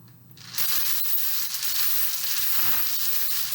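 Draft lottery balls spun and mixed in a hand-turned lottery drum make a continuous loud rattling, rushing clatter that starts abruptly and keeps going without pause, with no talking.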